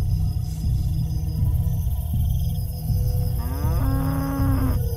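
A tethered cow in a Jurassic World short film lets out a long, low moo that swells and bends in pitch near the end, over a steady low rumbling background.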